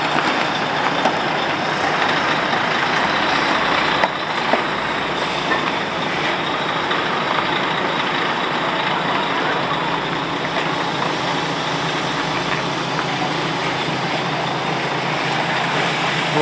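Megabus coach 50240 manoeuvring around a tight right-angle corner in Victoria, London: a steady, loud diesel engine drone with broadband road and traffic noise, continuous throughout, with a brief hiss-like burst partway.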